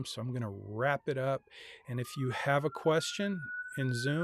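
A distant siren wails outside, a faint rising and falling tone running under someone speaking close by.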